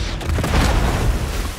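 A large explosive charge set at the outside of a powder room detonates in a wartime action film trailer, a loud, sustained low booming rumble lasting over a second and a half.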